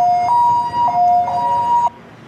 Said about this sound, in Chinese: 救护车来到现场